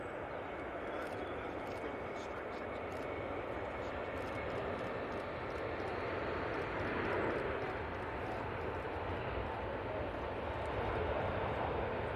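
A Ryanair airliner inbound at Manchester Airport, a broad steady engine roar swelling slightly midway, heard at a distance with people talking over it.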